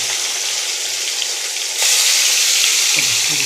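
Fish frying in a pan gives a steady, dense sizzle that grows slightly louder partway through, with a couple of soft knocks near the end and no voices.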